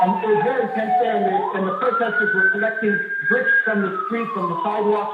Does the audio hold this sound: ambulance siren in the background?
yes